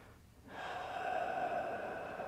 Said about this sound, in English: It says take a deep breath.